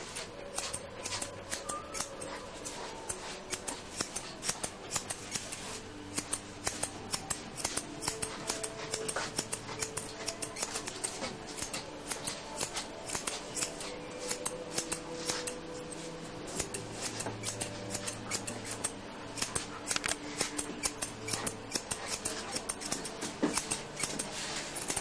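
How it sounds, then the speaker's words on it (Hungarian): Scissors trimming a dog's coat while shaping its final form during grooming: rapid, continuous snipping clicks in quick irregular bursts, close and fairly quiet, with faint background noise and no talk. "jöhet az ollóval való igazítás, a végleges forma megadása"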